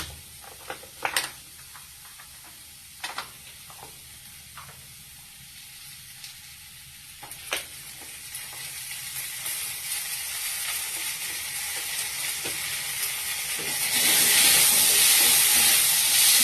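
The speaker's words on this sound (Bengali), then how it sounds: "টমেটো সস দিয়ে একটু নাড়াচাড়া করার পর" Potato poriyal with tomato sauce sizzles in a frying pan, a few sharp scrapes and knocks of stirring early on, then a steady hiss that grows louder and harsher toward the end.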